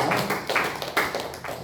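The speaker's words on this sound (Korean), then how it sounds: "우리 함께 감사의 또 하나님께 영광의 박수 올려드리겠습니다" A church congregation claps together in a steady rhythm at a Sunday praise worship service, the claps coming as loud, regular bursts of many hands.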